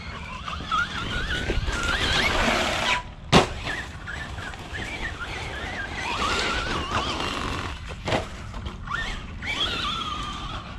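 Traxxas Stampede LCG RC truck with a 32 pitch spur gear, its electric motor whining and revving up and down in pitch as it drives and jumps, with a sharp thud from a landing.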